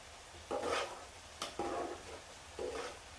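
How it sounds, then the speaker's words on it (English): Pasta gets three quick scraping stirs around a cooking pot for a Chipotle Beef Rigatoni, each a short close rub of utensil against metal, with a faint background hum between strokes. "we're going to give that pasta a quick stir to make sure that it's not sticking to the bottom"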